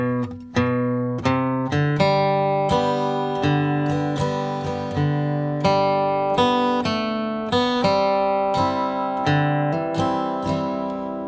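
Flatpicked acoustic guitar plays an easy intro line, steady and clear, with a bright, evenly picked run of single notes and bass strums up close and no voice over it.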